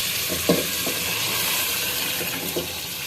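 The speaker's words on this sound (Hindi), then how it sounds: "मसाला भुन चुका है, सारा कुकिंग ऑयल ऊपर आ गया है। अब ये दाल डाल रहे हैं।" Lentils tip into a pan of masala that has been fried until the cooking oil rises, giving a steady broadband sizzle with a few brief soft thuds and stirring scrapes near the start, no talking.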